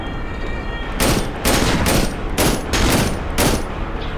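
Shotgun blasts in the video game Cry of Fear, about six loud booming shots at a steady, roughly half-second rhythm over constant background noise.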